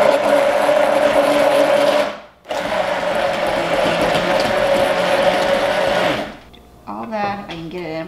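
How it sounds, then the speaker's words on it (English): An immersion blender whirs loudly through beaten eggs in a kitchen, a steady motor drone broken by one brief pause, then stopping as a voice speaks. "use my favorite tool in the kitchen, the immersion blender"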